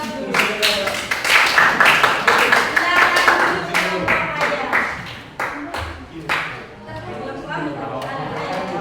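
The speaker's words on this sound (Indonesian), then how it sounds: "Kita kasih aplaus dulu" Applause from a classroom audience after a student group's class presentation, a dense wash of many hands clapping close by for several seconds, thinning into scattered claps toward the end.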